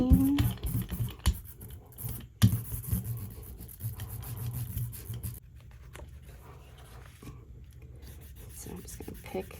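Paper rubbed by hand onto a gelli printing plate in a craft session: soft, irregular scratchy rubbing strokes, close and fairly quiet, with someone talking over it.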